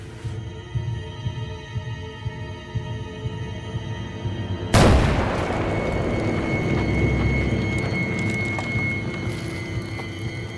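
A quiet hum is broken midway by a sudden loud grenade blast, which gives way to a lingering, rumbling wash of noise.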